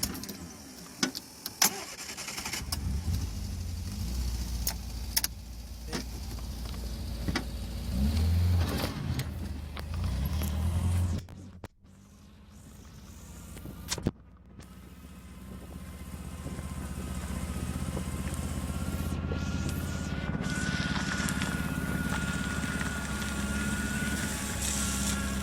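A barn-find Triumph Spitfire, sitting unused for 43 years, cranks and fires after a brief starter whir, then settles into a steady close idle. A short pause breaks the sound before the engine runs on alone.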